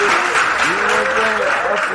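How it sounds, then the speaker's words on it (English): An audience claps steadily at a live mic event, a dense wash of applause with a few raised voices and whoops ringing over it. "Look, they ain't stop clapping."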